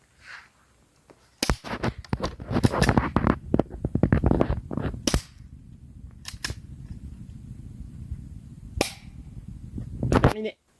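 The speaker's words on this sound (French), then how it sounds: "maintenant nous allons passer au tir sur cible" An H8R CO2 airsoft replica fires at a target on an outdoor field: a rapid string of sharp, close pops, then a few spaced single shots after a quieter stretch.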